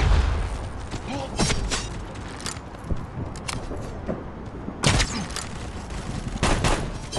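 Steady gunfire from the shooter game Guns of Boom, sharp close shots popping in irregular bursts over a continuous noisy game background, with a few louder cracks standing out.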